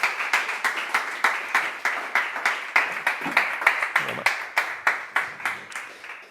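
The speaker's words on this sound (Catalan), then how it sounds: "Fem un fort aplaudiment a en Gerard Ribas." Audience applause at the closing party of a Catalan TV show, a crowd clapping steadily in rhythmic bursts at close range for several seconds, with no talk over it.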